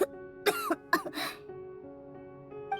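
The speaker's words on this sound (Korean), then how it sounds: "나처럼 이렇게 계속 기침하셨어." A character in the video game Genshin Impact coughs and clears her throat in several short harsh bursts over a held musical tone, then falls quiet.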